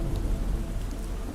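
Steady rain with a low thunder rumble underneath, a dense continuous wash of sound on a camping night, with no voices.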